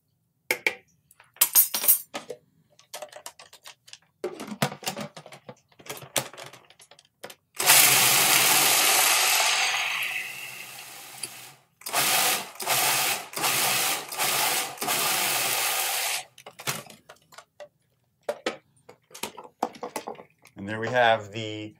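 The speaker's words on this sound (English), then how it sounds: "Those are going to go get drained and then go into the food processor" Food processor whirring through a nut mixture with chili powder and salt for raw tacos, a long steady run followed by several short pulsed bursts, loud and close, with clinks and handling noise between.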